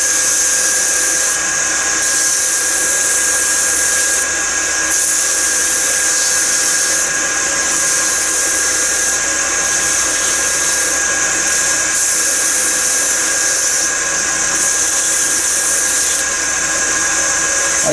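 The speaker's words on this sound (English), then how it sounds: "I also use the sandpaper to clean that copper up." A lathe runs with a steady high-pitched whine while sandpaper cleans copper on a rod scraper, giving a continuous close mechanical drone with faint periodic shifts in tone and no talk.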